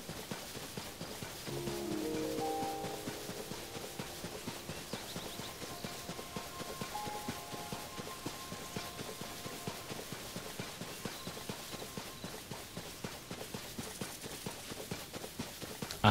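Horse hooves clip-clop at a steady trot in Zelda: Tears of the Kingdom, with rapid, even rhythmic clopping running throughout, joined briefly by a short game chime near the start.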